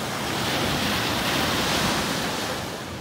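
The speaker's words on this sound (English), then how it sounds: "You can see the waves crashing." Ocean waves crash onto a beach in Kona, a steady, full roar of surf and wash with wind rumble on the microphone and no talking.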